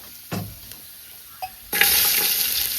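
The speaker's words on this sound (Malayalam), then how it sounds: "ഉലുവ പൊട്ടിട്ടോ ഉലുവ പൊട്ടി വല്യുള്ളി ഇട്ടു" Fenugreek seeds crackling in hot coconut oil in a clay pot, a few soft clicks and a stir, then a loud burst of steady sizzling that fills the rest.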